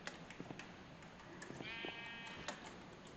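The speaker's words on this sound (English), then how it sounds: "I actually found a naturally spawning pink sheep" A naturally spawned pink sheep in Minecraft gives a single wavering bleat at moderate volume over a soft, busy game background, with a few faint clicks around it.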